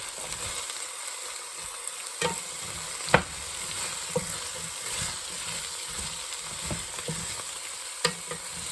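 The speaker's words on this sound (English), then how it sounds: "I'm going to want to make sure that I stir that in order to ensure that the vegetables are all being cooked at about the same rate" Vegetables being stirred in a full pot for German potato soup, a soft steady sizzle with scattered scraping taps of the spoon against the pot, close and moderate in level.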